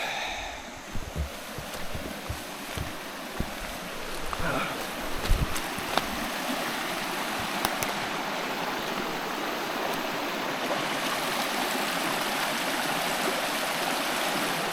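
River stream in a Costa Rica park rushing steadily, a full continuous wash of flowing water close by, with a few faint knocks and rustles over the top.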